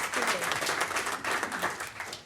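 A crowd at a transportation panel in Austin claps and applauds steadily for a couple of seconds, a dense wash of hand claps from a mid-sized audience.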